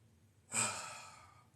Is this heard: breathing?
yes